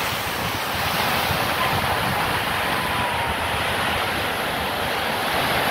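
Sea waves break and roll in a continuous loud wash, with gusting wind buffeting the microphone throughout and no voices.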